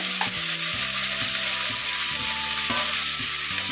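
Chopped onions sautéed in a pan for kothu porotta make a steady, close sizzle with soft stirring scrapes, over a constant stepped tonal hum in the background.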